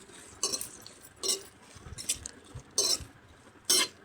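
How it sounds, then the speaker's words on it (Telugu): Green chillies and onions fry in a pan while a utensil stirs them, giving a few distinct scraping, clinking strokes against the metal over a faint background sizzle. "పచ్చిమిర్చి ఉల్లిపాయ వేసుకున్న తర్వాత వేపుకోవాలండి"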